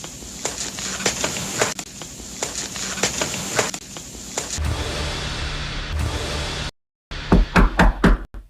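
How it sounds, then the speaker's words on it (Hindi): A waiter knocking on hotel room doors one after another, several sharp raps in short runs over a busy background, with a brief pause before a final clear series of knocks. "मैनेजर की डांट सुनकर वेटर एक एक करके सभी कमरों का दरवाजा नॉक करके"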